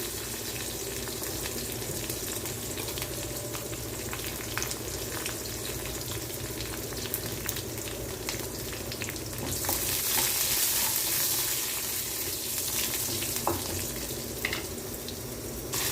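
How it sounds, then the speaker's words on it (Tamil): Garlic sautéing in a pan for a Tamil tamarind onion curry, giving a steady soft sizzle throughout, with a brief running-tap splash partway and light stirring, no talk. "பூண்டு நல்லா வதங்கட்டும்"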